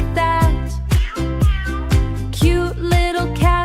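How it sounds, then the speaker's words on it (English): A cat meows repeatedly in a steady series of loud, close meows, about seven in a row, each a short rising-falling cry. "Cute little cat says meow."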